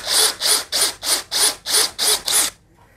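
A DeWalt DCD805 cordless hammer drill with an auger bit bores into hard wood in eight even, loud bursts, each rising and falling as the drill is eased in slowly, then the motor cuts out into near silence.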